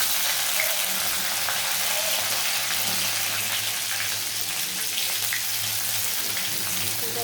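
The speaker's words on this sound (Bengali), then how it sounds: "তো প্রথমে আমি কড়াতে তেজপাতাটা দিয়ে দিলাম, জিরেটা দিয়ে দিলাম।" Bay leaf and cumin seeds frying in oil in a kadai, a steady close sizzle with a crackling hiss that holds for several seconds without talk.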